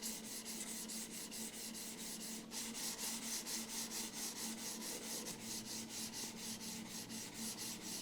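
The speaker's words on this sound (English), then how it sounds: "moving your mouse around and hearing a ton of noise from your mouse pad" A computer mouse slides back and forth over a Pulsar Superglide mouse pad, making a steady, close, continuous rubbing hiss with a faint regular pulse of strokes and no talking.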